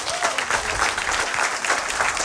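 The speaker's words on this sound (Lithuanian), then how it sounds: "Aurelijus Veryga, pasitikime plojimais." A studio audience claps steadily throughout, welcoming a guest onto a talk show set with even, continuous applause and no pauses.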